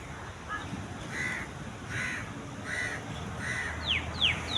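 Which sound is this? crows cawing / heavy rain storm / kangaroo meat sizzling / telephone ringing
crows cawing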